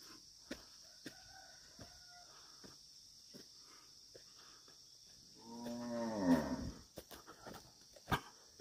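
Dairy cattle moo in a farm corral as they are driven in for milking, one long, loud, drawn-out moo rising in the second half amid scattered faint knocks and quiet background.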